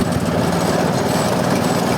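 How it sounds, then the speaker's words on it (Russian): The small engine of a motor draisine on a narrow-gauge railway chugs steadily with a buzzy, rough, lawn-mower-like rattle. It sounds close and constant. "Сейчас будет газонокосилка."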